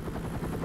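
Helicopter in the X-Men Destiny video game, a steady rotor and engine roar filling the short stretch at constant loudness with a faint pulsing beat.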